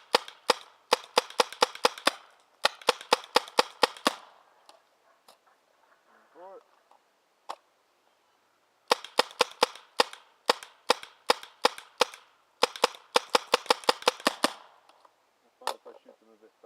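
A paintball gun fires Inka copper paintballs in quick sharp volleys of loud pops, with a pause and a few single shots before more rapid strings.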